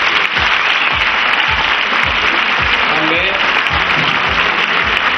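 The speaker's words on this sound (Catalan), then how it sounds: "demano un fort aplaudiment" Loud, sustained applause from a village audience at the 2008 Pubillatge election in La Pobla de Lillet, with a steady dense wash of clapping and low thumps throughout, a voice rising faintly beneath it.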